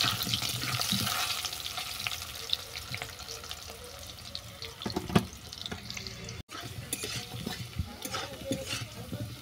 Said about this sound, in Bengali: আলু আর কচু নেড়ে চেড়ে বাদামি করে ভেজে নিচ্ছি।